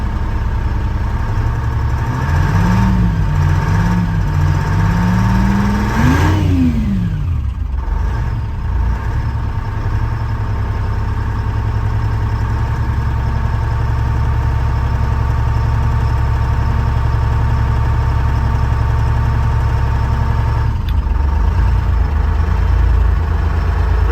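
Large diesel truck engine idling steadily after a cold start, a loud continuous rumble with a brief revving rise early on and an air hiss near the end.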